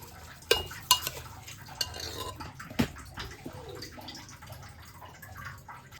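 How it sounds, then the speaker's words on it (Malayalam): Washed rice being stirred in a cooking pot with a utensil, giving scattered clinks and scraping strokes, a few sharper knocks early on, over a steady low kitchen hum. "അപ്പോൾ നമുക്ക് അരി ഒന്ന് ഇളക്കിയെടുക്കാം"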